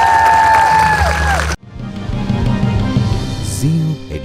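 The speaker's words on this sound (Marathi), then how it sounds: "अशा बहारदार परफॉर्मन्स साठी जोरदार टाळ्या झाल्या पाहिजेत" Audience at a college drama performance at Zeal Institutes' Udaan 2k22 erupts in loud, dense clapping and cheering after a musical passage ends, the crowd noise sustained for several seconds before tapering.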